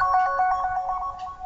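Smartphone ringtone triggered remotely through a tracking app's play-sound feature, a steady bright repeating electronic melody pulsing evenly, fairly loud and close, with no talking.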